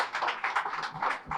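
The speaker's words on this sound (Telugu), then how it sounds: "గట్టిగా చప్పట్లు కొడదాం" Audience applause at a vegetarian rally ceremony honouring guests at a meditation pyramid in Macharla, a dense, steady patter of many hands clapping throughout a short stretch.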